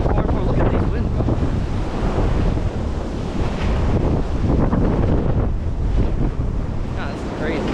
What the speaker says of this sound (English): Look at these winds, bro.